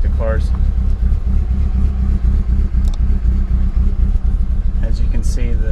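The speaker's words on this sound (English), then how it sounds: "it's very controlled at idle and even when I rev" A Mitsubishi Evo 8 with a 2.3-litre engine running E85 on a stock ECU idles steadily and loudly close by, with a slight rev. Someone talks over it throughout.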